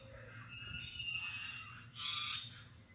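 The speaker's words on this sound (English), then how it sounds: "Tuning into the beautiful bird sounds of San Pancho, Mexico." Birds call outdoors in San Pancho, Mexico, with faint overlapping chirps and whistles and a louder squawking burst near the end.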